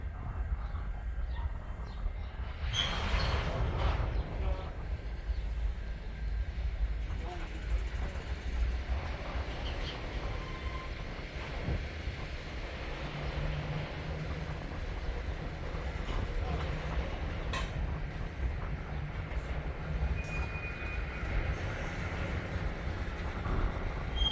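A westbound freight train pulls through on a shortline in Durand, giving a continuous low rumble and rolling rail noise at moderate distance, with brief higher squeals and clanks scattered throughout.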